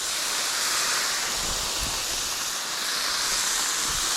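Bacon frying in a pan, giving a continuous close hiss and crackle of sizzling grease that stays steady and moderately loud throughout, with no voices.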